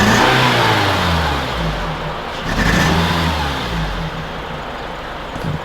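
A Subaru car engine revs up and down close by, a throaty rumbling growl that rises and falls in several swells.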